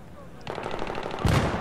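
Automatic gunfire in Battlefield 3 multiplayer on the PS3 Metro map: a half second of quiet, then rapid, sustained bursts of shots, ending in a louder, heavier volley.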